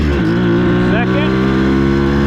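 A Bultaco Metralla two-stroke motorcycle engine revs hard and close as it shifts up through the gears, with a rising and falling pitch and a voice speaking over it.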